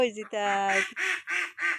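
Domestic ducks in a village in Assam give a quick run of four loud, close, nasal quacks. A short voiced call comes just before them.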